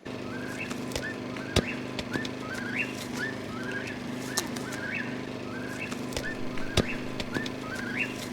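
A whippoorwill calls over and over at night at a campsite, its clear whistled phrases repeating in a steady rhythm against a faint hum of background noise.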